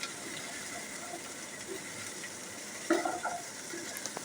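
Boiled peas and sweet corn stirred gently in a bowl, a soft steady scraping and shuffling with a few sharper clinks of the utensil near the end, close and fairly quiet.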